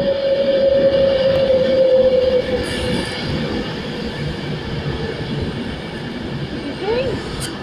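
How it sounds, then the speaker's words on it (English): A Pendolino train passes close by, a loud rushing roar of wheels and carriages with a sustained whine at first, then the rumble steadies and fades slightly toward the end. "It's a pendolino."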